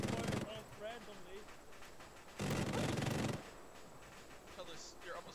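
Arma 3 gunfire in a video-game firefight: two loud bursts of rapid shots, one at the start and a longer one in the middle, with quieter shots and scattered noise between them.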